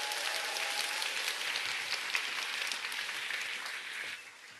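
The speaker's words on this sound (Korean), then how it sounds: "다시 한번 큰 박수 부탁드리겠습니다" Audience applause ringing out after a marketing plan lecture at a company seminar, a dense, steady wash of clapping from a large crowd that holds evenly and fades slightly at the end, with no voices over it.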